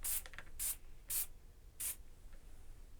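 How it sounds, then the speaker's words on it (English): A spray bottle of Gibson tonewood spray applied to guitars gives four sharp hissing bursts in an uneven rhythm, close and crisp against a quiet background. "Simply spray them liberally."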